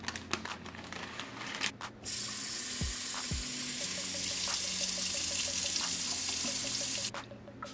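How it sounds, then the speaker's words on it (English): Organic brown rice is rinsed in a bowl under running tap water, a steady close stream with some crinkling handling sounds at the start before the flow settles in. "So the first thing I'm going to do is basically just clean the rice."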